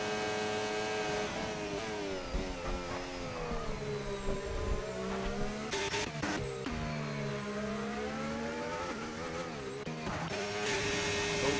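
An Aston Martin race car engine in Project Gotham Racing, loud sustained revving with rising and falling pitch through gear changes and corners, a few sharp bursts near the middle, no talk.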